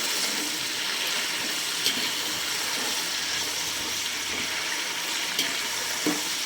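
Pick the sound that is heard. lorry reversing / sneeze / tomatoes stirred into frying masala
tomatoes stirred into frying masala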